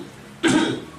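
A single short throat clearing or cough from a man, close and fairly loud, in the middle of a quiet talk about ritual purification.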